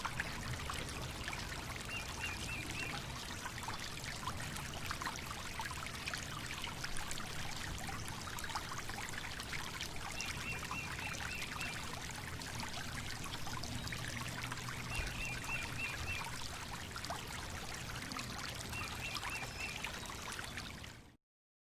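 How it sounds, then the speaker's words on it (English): A waterfall near Savusavu in Fiji keeps up a continuous, even splashing and pouring rush, moderately faint and steady throughout with no voices, ending abruptly. "There are many numbered of waterfalls, each with their own personality"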